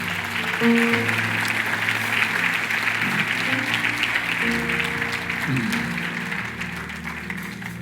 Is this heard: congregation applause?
yes